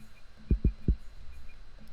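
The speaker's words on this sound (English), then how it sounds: "the last thing I added for the drums was a kick" A booming kick drum from a Detroit type beat thumps three times alone, two quick hits then a third, deep and punchy over a faint low hum.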